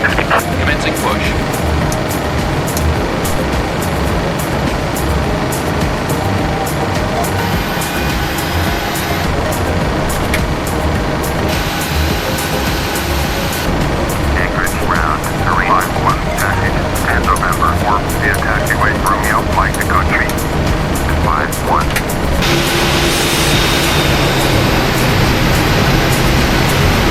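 A PMDG 737-700 in Alaska Airlines livery being pushed back at Anchorage in the Prepar3D flight simulator: a loud, steady broadband engine and airflow roar fills the whole stretch, with a shifting hiss layered on top.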